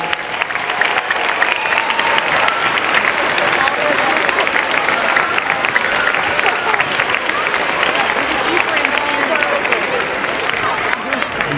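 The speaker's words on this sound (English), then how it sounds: "Let's give them a round of applause." A school convocation crowd applauds new community members in a large hall, loud continuous clapping with light cheering and murmuring throughout.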